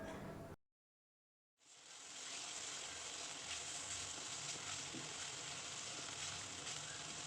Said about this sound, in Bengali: এবার এক চামচ করে অ্যাড করছি রসুন বাটা কাঁচা লঙ্কা বাটা এবং আদা বাটা মশলাগুলি তেলে ভালো করে সাঁতলে নিচ্ছি